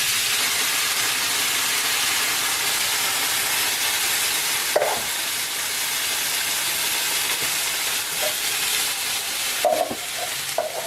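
Canned tomatoes sizzle and fizz steadily in a hot paella pan, a continuous close frying hiss with a few faint clinks of utensils and no voices.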